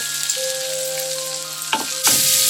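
Chopped onion and garlic flakes frying in a pan, with a steady close sizzle running throughout and a brief stir or clatter near the end.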